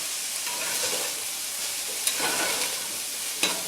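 Chicken and vegetables stir-fry over medium-high heat in a pan, giving a steady close hiss and sizzle with a few sharp crackles and pops, and no voices.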